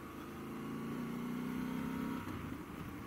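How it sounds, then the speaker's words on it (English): A Triumph Scrambler 1200 Steve McQueen edition motorcycle with stock exhaust hums at a moderate, steady idle, swelling slightly in the middle before settling, with a mellow rather than loud exhaust note. "The stock exhaust sounds good. Not loud at all."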